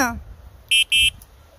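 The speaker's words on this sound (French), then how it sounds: "petit klaxon aussi" A Mokwheel electric bike's small horn gives two short, bright electronic beeps in quick succession, close by, after a brief bit of voice at the start.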